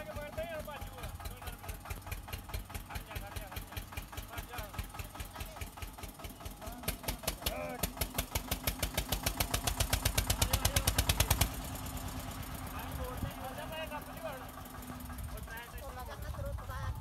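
A tractor engine chugs in a fast, steady rhythmic knock that builds in intensity before easing back to a lower idle, running under excited voices in a rural field setting.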